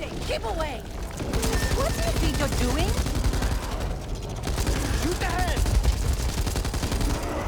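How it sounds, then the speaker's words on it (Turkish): Light machine gun firing in the video game Back 4 Blood: dense, continuous rapid bursts of gunfire over a busy game soundscape, loud and close, with someone talking in between. "Bir makine, hafif makineli tüfek."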